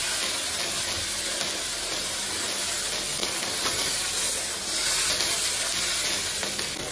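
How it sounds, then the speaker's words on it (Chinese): Soy sauce poured into a hot wok of braised meatballs sets off a loud, continuous hissing sizzle that swells slightly midway and holds for several seconds. "加入酱油"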